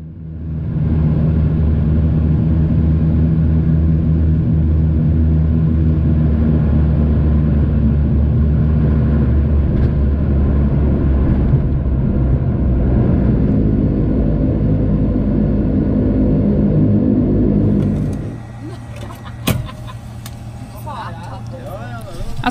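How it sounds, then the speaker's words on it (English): Widerøe airliner on approach into the small Arctic airport at Vadsø, heard from inside the cabin as a loud, steady engine drone and rumble, easing off near the end with a few faint knocks. "as the town of Vadsø slept below us, we made our approach into the tiny airport to the east of the town"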